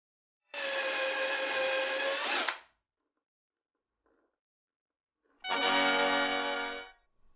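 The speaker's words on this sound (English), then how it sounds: "pre-drilling all of the holes, and screwing them into place" Power drill pre-drilling holes and driving screws into a DIY home theater speaker cabinet, two sustained whirring bursts of about two seconds each, separated by a near-silent pause with a faint click.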